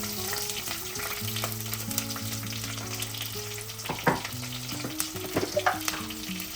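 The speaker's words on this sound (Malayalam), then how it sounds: "എല്ലായിട്ട് നന്നായിട്ടൊന്ന് വഴറ്റാം. ഒരു ചെറിയ ബ്രൗൺ കളർ വരുന്നവരെ നമ്മൾ വഴറ്റണം" Spices, curry leaves, green chillies, crushed ginger-garlic and small onions sizzle and fry in a pan, a steady crackling hiss with occasional stirring scrapes and clinks, close and alone.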